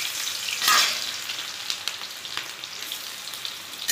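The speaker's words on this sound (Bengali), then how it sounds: "তেল গরম হয়ে গেছে, এবারে পেঁয়াজগুলো দিলাম।" Onions drop into hot oil and burst into a loud crackling sizzle, which then settles into a steady fry with scattered pops and spatters.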